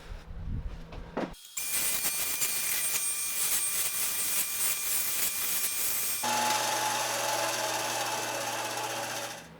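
A power saw cuts out a wooden camera wall mount along a traced line, starting after a brief knock and running as a loud, continuous buzzing whine for several seconds, its tone shifting partway through as the cut continues.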